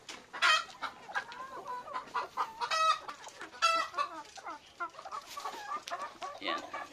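Chickens cluck and squawk busily while eating termites from a piece of wood, with a rooster crowing once or twice among the near, overlapping calls.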